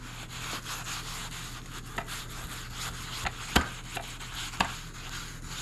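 Stainless steel appliance being scrubbed with a homemade polish: a steady rubbing sound with soft repeated strokes and a few sharper wipes, close and moderately quiet, with no talking.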